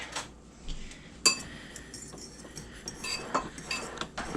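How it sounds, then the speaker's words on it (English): A fork stirs sugar into graham cracker crumbs in a bowl, with light clinks and scraping ticks against the dish. A few sharper taps stand out over a soft continuous rustle, close and fairly quiet, with no one talking. "I'm going to mix my sugar into this before I put the butter in,"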